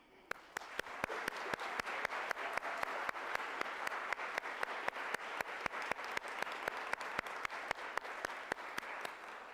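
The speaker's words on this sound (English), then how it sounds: "Let's honor them tonight with a round of applause." Applause at a Wesleyan University baccalaureate service honoring graduates: a steady rush of audience clapping with one or two loud nearby hands smacking in a fast, regular rhythm over the crowd throughout.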